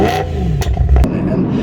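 BMW B58 engine revving through an MPPSK exhaust, a loud, close burst of rising rumble with a throaty, raspy edge, short and unaccompanied by talk.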